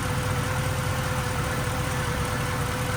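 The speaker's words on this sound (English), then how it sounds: "So loud. So the car's on." A Mercedes C63's loud, throaty engine idles steadily up close, a deep continuous rumble with no talking over it.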